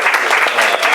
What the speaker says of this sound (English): let's give Pablo a round of applause